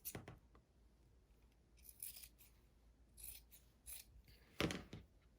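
Scissors cutting a rectangle of fabric in half for a doll skirt pattern: quiet, intermittent snips and rubbing strokes at close range, spaced irregularly with no talk.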